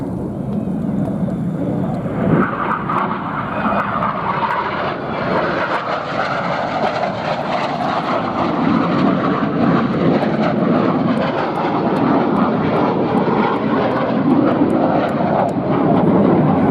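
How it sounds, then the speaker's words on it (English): Red Arrows jets of the British Royal Air Force synchro pair closing head-on and flying Double Rolls at the 2019 New York Airshow, a loud, continuous roar of jet engines that builds steadily throughout. "the synchro pair in from the left and right, a 700 mph closing speed"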